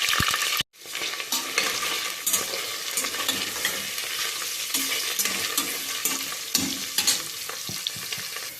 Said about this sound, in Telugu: ఆయిల్ వేసుకున్న తర్వాత పన్నీర్ ముక్కలు వేసుకోవాలి.